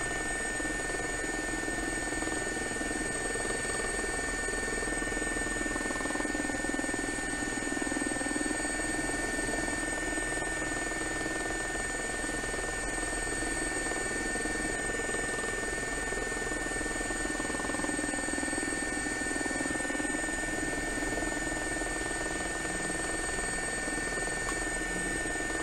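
A simulated SA342J Gazelle helicopter flies steadily over the Okavango Delta in X-Plane 11, its rotor and turbine drone holding a constant, even level throughout with a faint whine above it.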